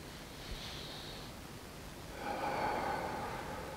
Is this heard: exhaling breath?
yes